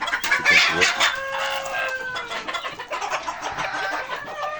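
Chickens in a coop cluck and chatter continuously at close range, with several birds overlapping in loud, busy calls and no pause.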